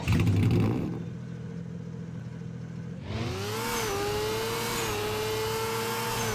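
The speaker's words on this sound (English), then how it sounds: "the Wedge has a custom startup sound, and kind of custom engine noise" A video game supercar called the Wedge, in the game Jailbreak, starts up with a custom engine sound blending growl and hissing, then settles into a steady rising whine and hum, alone without talk.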